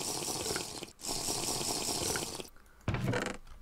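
Water gushes from a hose in a modded Minecraft game, a loud steady rush like a running tap that briefly cuts out, resumes, then drops away before a final splashy burst.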